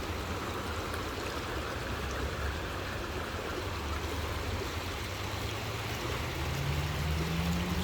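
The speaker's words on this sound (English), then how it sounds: "There's this beautiful river right here." A river in the Durango, Colorado area rushes in a steady, broad wash of flowing water that never lets up, with a faint low hum rising near the end.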